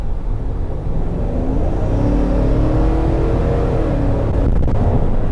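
A 2021 Chevrolet Tahoe Premier 4WD with a 5.3 engine accelerating on the road, a loud steady engine rumble that rises in pitch as it gathers speed.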